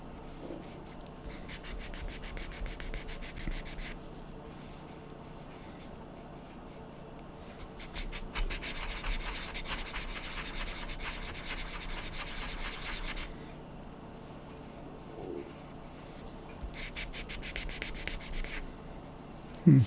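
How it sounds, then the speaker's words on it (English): Fine 1000 grit sandpaper rubs along the edges of a Star Trek bridge model kit, a soft continuous scratchy sanding in several bursts with short pauses, close and moderately quiet, with no talking. "I need to polish the edges with the 1000 grit sandpaper"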